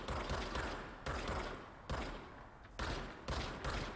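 A service gun fires in the video game Control in loud, rapid bursts, about five volleys spaced roughly a second apart, each a dense crackle of shots with brief gaps between.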